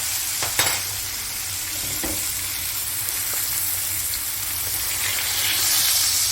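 Steak frying in a cast-iron pan, being basted with melted butter: a loud, continuous sizzle and hiss with faint scrapes and taps from the spoon, no voices over it.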